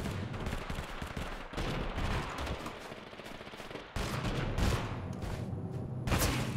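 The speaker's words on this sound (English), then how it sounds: "Someone's shooting me!" Gunfire from the video game Totally Accurate Battlegrounds rattles in loud, dense automatic bursts. Brief gaps separate the volleys, with sharp single cracks close by.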